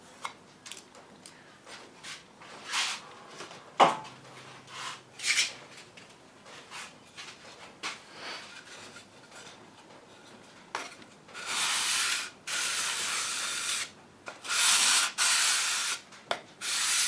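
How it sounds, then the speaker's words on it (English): 80 grit wet and dry sandpaper rubs against a workpiece in bursts of scratchy strokes, sparse and quiet at first, then longer, louder back-and-forth passes close by, with no talking. "This is 80 grit wet and dry."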